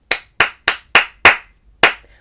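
A single person claps a rhythm of six sharp, close hand claps during a rhythm-reading music lesson, five in a steady run followed by a pause before the last clap.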